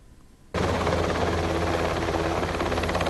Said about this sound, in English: A crowd of pupils and teachers were treated with the sight of a Royal New Zealand Air Force NH-90 helicopter landing at Cromwell College